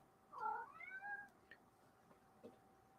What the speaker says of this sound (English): My wife's cat is my co-host.